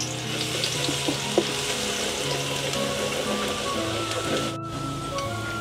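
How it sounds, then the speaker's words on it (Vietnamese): Minced garlic frying in hot oil while stir-frying crab: a steady close sizzle and crackle with small pops, continuous throughout. "Dầu nóng em cho tỏi băm vào."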